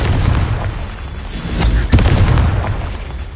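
In Hogwarts Legacy, a Confringo fire spell detonates as a deep booming blast, with a couple of sharp bursts about halfway through over a rumbling game soundscape.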